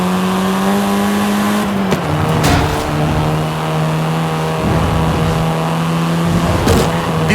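Volkswagen Golf R, seventh-generation hot hatch, driven in Forza Horizon 5: a loud, steady engine drone holding revs with brief gear-change dips, close and continuous with no talk over it.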